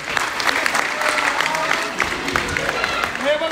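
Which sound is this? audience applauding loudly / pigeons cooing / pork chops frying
audience applauding loudly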